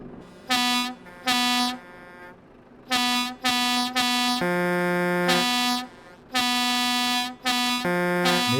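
A truck air horn in Euro Truck Simulator 2 blares in a series of loud, close blasts, some short and some held for over a second, with two chord-like tones changing between blasts and no talk over them.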